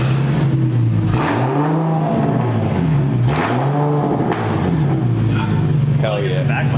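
Infiniti G37 with resonator and muffler delete revving loudly nearby in repeated rising and falling sweeps, with crackling backfire pops between pulls and people talking over it.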